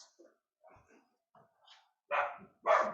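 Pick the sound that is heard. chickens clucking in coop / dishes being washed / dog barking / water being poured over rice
dog barking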